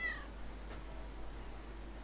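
A single short cat meow in the Lego City Undercover video game, faint and quick at the start, followed by a quiet background hum.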